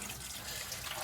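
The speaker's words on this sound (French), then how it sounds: "en poussant comme ça, je vais faire couler toute l'eau" Coolant water from the hose of a 1986 VW Passat pours steadily into a drain pan, a continuous close splashing trickle with no pauses.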